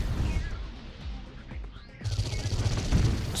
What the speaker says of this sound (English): Something else shooting at us